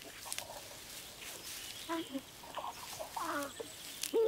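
Crows call around their nest, scattered harsh caws and softer chatter coming in short bursts over a hissy outdoor background, moderately distant.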